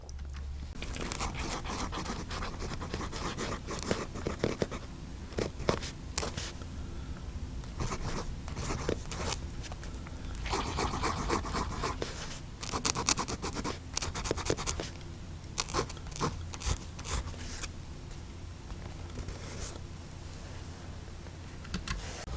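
A Montblanc 320 fountain pen with a broad nib scratching and scraping across paper in quick strokes and bursts, close and fairly loud with short pauses between, no voices.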